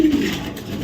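A blue bar male racing pigeon gives a short, low, throaty coo, close and clear, lasting under a second.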